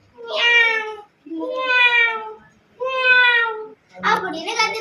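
A voice imitates a kitten's meow: three drawn-out, tuneful mews in a steady rhythm, then a rougher, breathier fourth call, close and clear.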